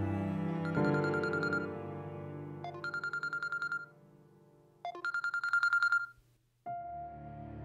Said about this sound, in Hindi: अनीक का फोन।